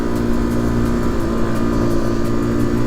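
A Moto Morini or Mash trail motorcycle runs at full throttle on a Corsican road, its engine a dense, steady roar with wind rush and no break through the short stretch.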